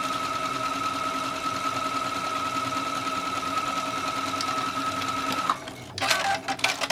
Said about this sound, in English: Now it's time to join the seam. I'm simply just going to sew it close.